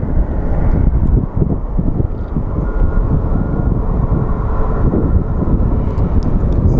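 Frontier airliner taxiing at Phoenix Sky Harbor airport, a steady, loud jet engine rumble and roar that holds without a break, with wind buffeting the microphone throughout.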